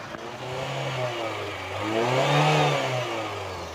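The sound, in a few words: car engine revving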